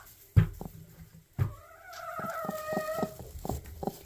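Broody hen clucking close by as eggs are slipped back beneath her, a few low sharp clucks and a drawn-out murmuring purr, with brief handling bumps.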